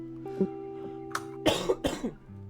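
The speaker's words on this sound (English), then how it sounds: "Excuse my cough." A few harsh coughs from a sick person close to the mic, clustered together after a short throat sound, over a steady low hum.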